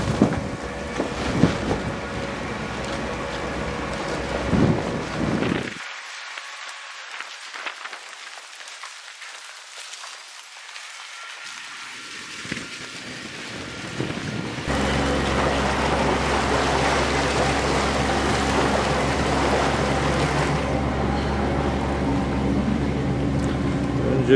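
Houseboat engine on the Bentota River in Sri Lanka, a steady low drone that starts after a quiet stretch and holds loud and close, with wind and water noise earlier in the clip.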